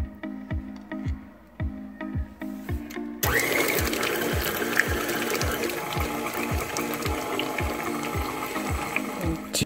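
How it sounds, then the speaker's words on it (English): Electric mixer beating cream cheese, sour cream and garlic powder until fluffy, a rapid rhythmic ticking motor with regular beats, growing louder and denser partway through as the machine speeds up, close and without speech. "you're just going to mix that and get that nice and fluffy"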